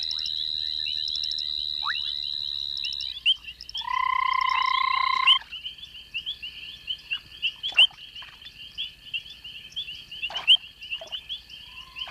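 Frogs call at an African pond at night, a mix of sustained trilling and clicking croaks overlapping in a dense chorus, with one loud close burst and scattered sharp chirps.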